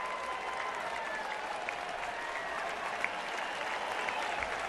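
A ballpark crowd at a Phillies baseball game applauds a long hit off the top of the right-center fence, sustained clapping and murmuring spread evenly across the stands, fairly distant and steady throughout.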